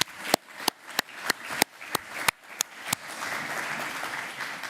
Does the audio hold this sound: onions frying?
no